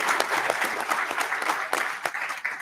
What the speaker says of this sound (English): Let's all give another round of applause for this family